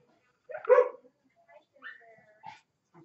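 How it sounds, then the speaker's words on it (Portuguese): A dog barks close by, with one strong bark followed by a few weaker, shorter yips and whines against a quiet background. "O cachorro tá latindo. O cachorro só late."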